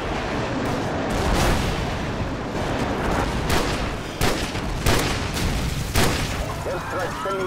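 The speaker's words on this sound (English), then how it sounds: "Friendly airstrike on the way." Airstrike explosions and gunfire in Call of Duty 4 Modern Warfare multiplayer, a loud dense rumble with repeated sharp blasts and booms, under intermittent voice callouts.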